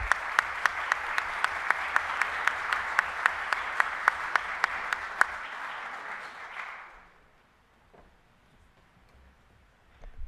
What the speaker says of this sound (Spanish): un gran aplauso para Felipe